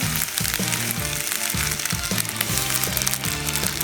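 Glass noodles with mackerel and seasoning are stir-fried in a pan, giving a steady sizzle and scraping stir under louder rhythmic background music.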